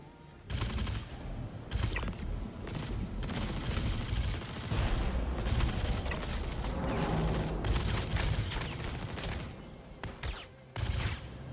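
Gunfire in the space game Star Citizen during an Onyx Facilities firefight: dense, loud bursts of rapid shots and booms come in repeated volleys for most of the stretch, with brief gaps between them.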